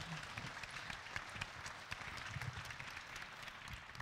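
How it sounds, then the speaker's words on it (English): An indoor audience at an arena event gives steady, sustained applause, many hands clapping at a moderate distance for several seconds. "Big round of applause for Hannah."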